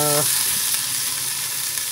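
Loud, steady sizzling of chicken frying in a pan, a dense continuous hiss close up with no talking.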